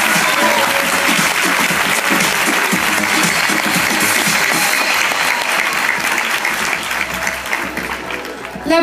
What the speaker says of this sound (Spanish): Aplauso enorme entonces para la segunda princesa.